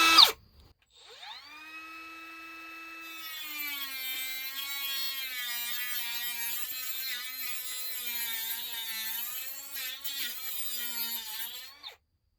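A Milwaukee power tool cuts into a plastic DeWalt ToughSystem 2.0 drawer box, giving a sustained high-pitched whining buzz that wavers as the blade bites, then stops abruptly.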